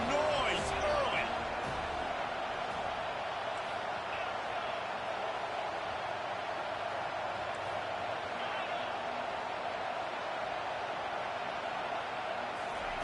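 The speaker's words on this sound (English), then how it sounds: "This crowd bringing the energy and noise early." A college football stadium crowd keeps up a steady, loud roar of cheering and noise throughout, with a broadcast commentator talking over it.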